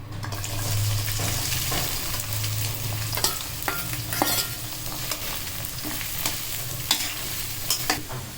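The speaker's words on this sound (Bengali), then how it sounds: "এখন পেঁয়াজ মরিচ দিয়ে দেব তেল গরম হয়ে গেছে" Chopped onions and chilies frying in hot oil in a kadai for beef bhuri, a dense continuous sizzle with regular spatula scrapes and taps, close by and without speech.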